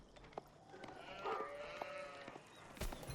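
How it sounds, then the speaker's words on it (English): Sheep bleating in the Age of Empires 4 real-time strategy game, several soft overlapping bleats drifting over quiet game ambience with scattered clicks and a sharp tap near the end. "That's 13 sheep."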